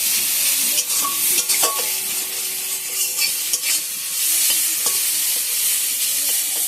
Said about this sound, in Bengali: কাঁঠাল চিংড়ি করার পরে কুচো কুচো কয়েকটা চিংড়ি ছিল, আর এই মাথাগুলো সব একসাথে ভেজে নিলাম